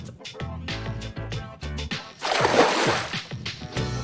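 A burst of water gun splashing in the game Persona 3 Portable, a broad watery spray rising over game music and lasting a couple of seconds, with voices around it.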